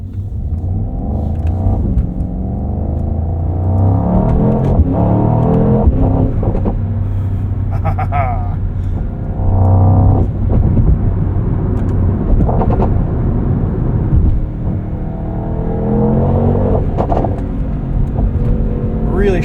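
A 2024 Mercedes-AMG GT63 coupe driven hard in race mode on the street, engine rumbling and revving through gear changes with rising and falling whine, heard from inside the cabin, loud and continuous.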